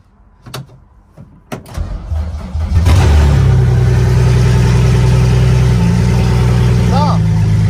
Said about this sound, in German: So, jetzt starten wir das ganze Mal, das Kfz.